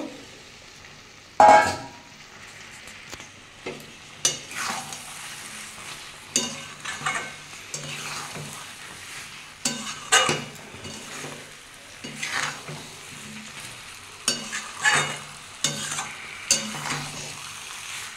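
Fried broccoli stirred into fish curry masala in a pan, with a steady sizzle under repeated scraping strokes and occasional metallic clinks of a spatula against the pot, close and moderately loud.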